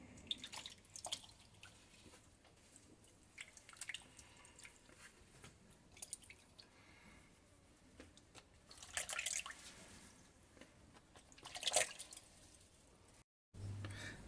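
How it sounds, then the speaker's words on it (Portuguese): Cotton fabrics lowered into a water bath for mordanting, giving soft, scattered drips and small splashes of water, quiet and close, with a few brighter sloshes near the end. "E coloque os tecidos no banho d'água."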